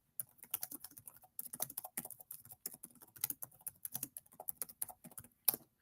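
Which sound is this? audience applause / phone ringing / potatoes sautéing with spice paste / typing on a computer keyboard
typing on a computer keyboard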